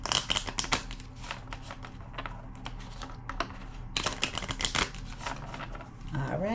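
Quick crisp riffles and flicks of a card deck being shuffled in bursts, close up, with soft pauses between runs of snapping cards.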